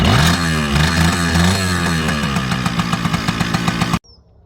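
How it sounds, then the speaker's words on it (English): A vintage Kawasaki KE100 two-stroke motorcycle engine runs loud and close after a kick start, with a buzzy, rising and falling rev, then cuts off abruptly into near silence. "Kawasaki KE100, just kick it."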